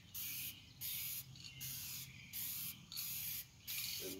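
Fast-drying Krylon spray paint being sprayed on a camper for touch-up painting, five or six short hissing bursts in a steady rhythm with brief quiet gaps between them, close and fairly faint.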